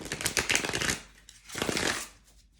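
Two quick bursts of tarot cards being riffled and shuffled close by on the knees, crisp papery flutters separated by a brief pause.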